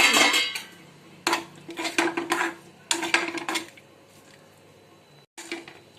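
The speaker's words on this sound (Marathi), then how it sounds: "चला आता एकदा भाजी हालून" A metal spoon scraping and clinking against a cooking pot as vegetables are stirred, coming in several bursts of clattering strokes with short pauses between, close and fairly loud, with no voices.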